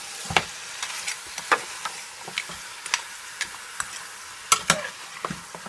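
Jamaican oxtail sizzles as it sautés in an uncovered pot on a stove at medium heat, a steady fry punctuated by sharp spattering pops and crackles, with no talking.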